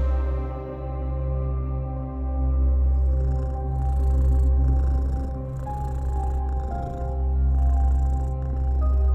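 Low, steady purring from a cat in the video game Moonscars runs continuously throughout, with a thin layer of game ambience and music over it.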